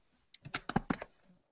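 About half a dozen quick keystrokes click on a computer keyboard in a short close burst, fading into a faint tap, alone in a quiet room.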